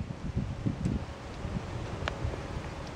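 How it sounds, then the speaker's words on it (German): Wind blowing outdoors across a grassy spot in the evening, a rough low rustling roar with gusty buffeting on the microphone, steady and fairly close throughout, no talk. "es kommt jetzt Wind auf"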